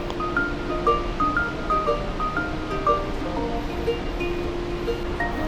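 A waterfall in Québec, Canada rushes in a steady broadband wash, moderately loud and continuous, with faint tonal music or chimes drifting over it.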